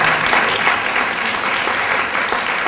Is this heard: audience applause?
yes